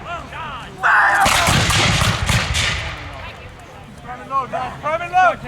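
A volley of historical weapons fires at a festival weapons demonstration, a loud, close blast that rolls and echoes for a couple of seconds, with shouted commands before and after.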